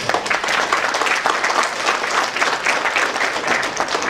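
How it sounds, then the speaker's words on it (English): An audience at a formal address gives warm applause for teachers, a dense, continuous crowd clapping that stays loud and even throughout, with no talk over it. "join me in giving them a very warm round of applause, please."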